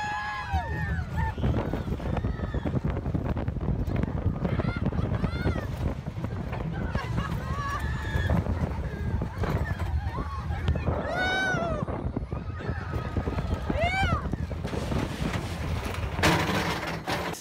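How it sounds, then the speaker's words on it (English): Roadrunner roller coaster ride at an amusement park: steady wind rush buffets the microphone throughout, with riders' voices and rising shrieks breaking through over the roar. "I guess we're gonna try to ride roller coasters soon."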